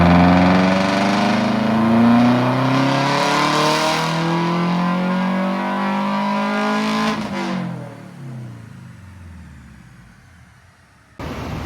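A tuned car engine on a dynamometer screams up through the revs in one long, loud pull with rising harmonics, then lifts off and winds down to a lower idle, with a sharp burst of noise at the very end.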